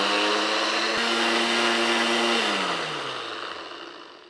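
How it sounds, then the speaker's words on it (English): A countertop blender purees apple pancake batter, a loud steady motor whine near the microphone that holds its pitch, then slows and fades as it spins down. "So we are gonna blend this all together until smooth."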